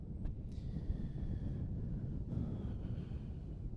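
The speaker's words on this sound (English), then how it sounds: "It's getting too fucking windy out here to begin with." Strong wind gusts buffet an outdoor microphone, giving a steady low roaring rumble throughout with a faint tonal whine drifting above it.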